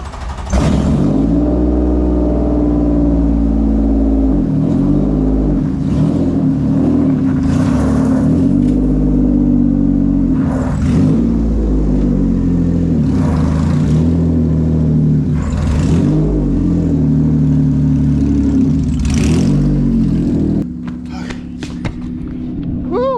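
A Toyota MR2 with a 2GR V6 engine drones and rumbles steadily while driving, rising and falling as it revs, with a voice talking over it and a brief shift near the end.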